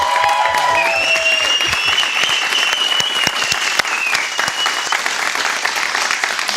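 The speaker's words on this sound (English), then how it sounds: "Can we get a round of applause for Carrie and Barb?" A live-stream studio audience gives Carrie and Barb a loud, sustained round of applause, with dense continuous clapping and a few high cheers near the start.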